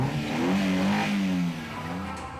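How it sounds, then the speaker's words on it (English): Car engines start and rev in a broad, loud roar, with a rising and falling engine tone sustained for a couple of seconds before easing slightly. "Gentlemen, start your engines."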